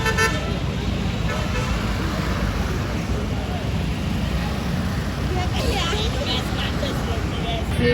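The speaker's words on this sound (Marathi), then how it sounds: "बस बघा, बस पुढे येतो." A bus moving forward in busy road traffic near Nashik, with a steady engine and roadway rumble throughout and short horn toots near the end, heard close under people talking.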